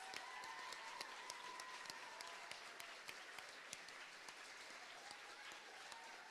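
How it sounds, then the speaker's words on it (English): Audience applause at a school sports awards ceremony for standing coaches, managers and scorekeepers, a steady, fairly faint wash of many hands with a few sharper nearby claps throughout. "Let's give these guys a round of applause."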